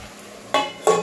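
A metal lid goes onto a cooking pot of ridge gourd and chickpea curry, two quick close clanks in about a second over a faint background hiss.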